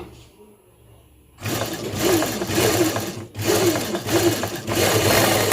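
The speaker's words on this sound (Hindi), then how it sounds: "अब इधर से भी हम ये सिलाई लगाएंगे।" Sewing machine stitching a pocket onto a formal shirt, a loud, steady mechanical whir running in two long bursts after a quiet start, with a brief pause between them.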